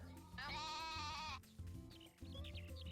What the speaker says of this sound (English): And where is the goat?